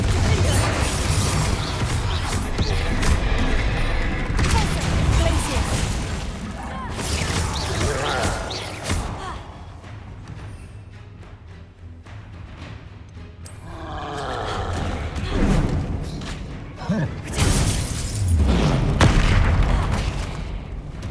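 Repeated Confringo fire-blast spells explode during a Hogwarts Legacy troll fight, a run of loud, rumbling booms and crashes in waves, with occasional voices mixed into the chaotic battle noise.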